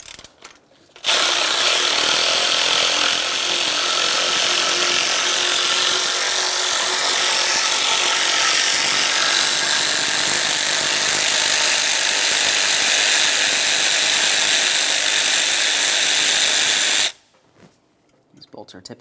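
A socket wrench with a 13 mm socket works the bypass pulley bracket bolts on a 1994-2002 Dodge Ram 2500, a loud continuous mechanical rattle lasting about sixteen seconds between short quiet gaps.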